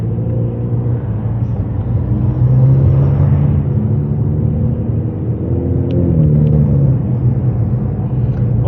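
Ford Mustang EcoBoost driving on the road, a steady close engine rumble with a brief shift in pitch as it downshifts, overlaid by wind and road noise throughout.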